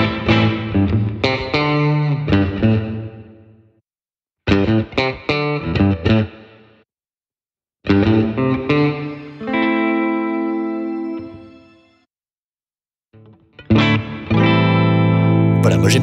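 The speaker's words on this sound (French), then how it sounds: "Allez, une petite réverb derrière ça." Electric guitar through a NUX MG30 multi-effects pedalboard with reverb added, funky chordal phrases in several bursts separated by silences, ringing tails and a sustained chord, loud and close without any talk.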